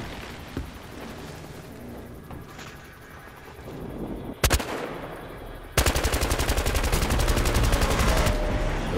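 Gunfire in the Battlefield video game, beginning with scattered distant shots and a sharp close burst, then a long rapid automatic volley that runs loud to the end.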